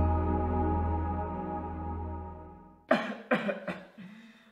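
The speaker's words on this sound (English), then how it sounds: "Got a cough?" A few sharp, loud coughs in quick succession break in after a fading sustained musical tone, with no talking.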